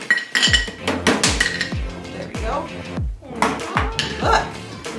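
Ice cubes knock out of a tray and clatter onto a hard surface in a run of loud, hollow clinks and thumps, with someone briefly speaking during the clatter.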